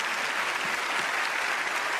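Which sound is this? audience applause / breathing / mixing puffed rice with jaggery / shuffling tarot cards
audience applause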